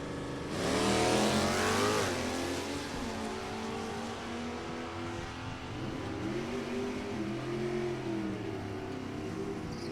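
NHRA drag race run with Merrifield's truck and Shane Oaks' 1983 Camaro, a loud engine roaring up through rising revs at launch, then a second engine climbing through gear changes, heard from a distance down the track.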